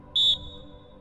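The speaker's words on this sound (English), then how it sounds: "Attention on the whistle." One short, sharp, high-pitched whistle blast given as a command signal to a group, lasting about a fifth of a second with a faint ringing tail, over a quiet background.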